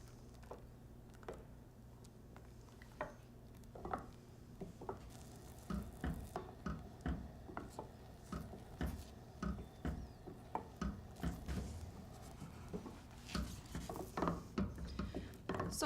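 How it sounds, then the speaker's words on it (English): Wooden spoon stirring thickening pastry cream in a pan, soft rhythmic scraping and tapping strokes that grow steadier and quicker, faint and close with no talk. "You keep stirring in this pattern for about 2 to 3 minutes"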